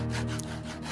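Wood sawing in a Project Zomboid survival game, a short continuous rasping stroke heard alone over a low in-game hum.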